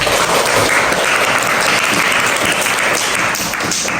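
Dense, loud clapping from a classroom of students, sustained and even for several seconds without a break.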